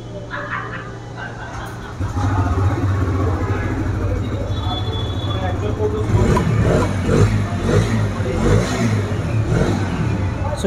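A 2024 Bajaj Freedom 125cc motorcycle engine running on CNG, idling steadily at close range with a low hum that turns rougher and louder after a couple of seconds, while someone talks over it.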